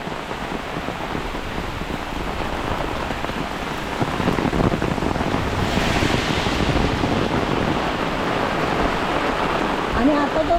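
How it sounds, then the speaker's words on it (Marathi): Heavy monsoon rain pours steadily in a village, a dense, continuous hiss that swells louder midway, with people talking faintly underneath. "मोठा मुसळधार पाऊस आहे"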